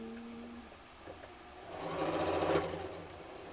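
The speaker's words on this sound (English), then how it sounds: "I'm just trying to sew the thing together." A sewing machine stitches a tiny nine-patch quilt block with a steady mechanical whir that speeds up into a louder, faster run midway, then eases back, close and alone.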